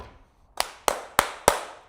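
Four sharp claps from a small group in a sales meeting, evenly spaced about a third of a second apart after a brief quiet pause, close and distinct with no talk over them.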